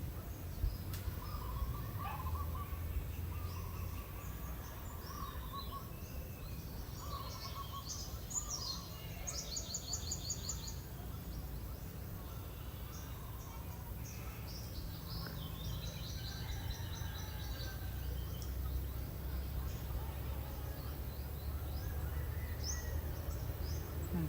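Birds chirp and sing outdoors on a Philippine island, short bright calls scattered across a steady bed of insect and cricket trill, fairly faint and distant, with no talking.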